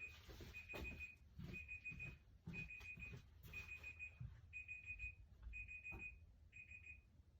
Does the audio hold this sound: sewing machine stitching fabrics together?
no